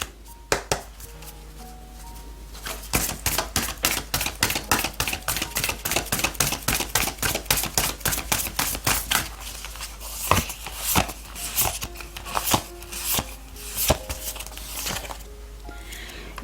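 Oracle cards being shuffled and handled during a Korean tarot reading, a rapid run of crisp, evenly spaced card snaps and riffles up close, then slower, scattered taps and slides as the cards are laid out, with no talk over them.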